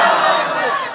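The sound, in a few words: crowd shouting a Nara-e-Takbeer response chant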